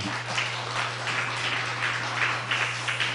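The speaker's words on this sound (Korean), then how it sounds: "먼저 박수로 환영 한번 해주시기" Church congregation applause fills the room, a steady broadband clatter of many hands clapping with a low hum underneath, moderately loud throughout.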